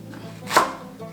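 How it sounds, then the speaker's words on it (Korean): A knife coarsely chops green onion on a cutting board, a single firm chop standing out near mid-clip against a quiet kitchen background. "먼저 대파는요, 듬성듬성 썰어주세요."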